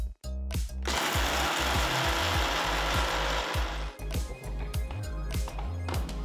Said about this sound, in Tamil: ஆறுனதும் ஒரு மிக்சர் ஜாருக்கு மாத்தி பொடியா அரைச்சுக்கலாம்.